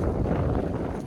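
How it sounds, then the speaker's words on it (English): Wind gusting on a rainy morning in Iceland, a steady low roar buffeting the microphone throughout, loud and close with no let-up. "Wow, it's rainy. It's windy."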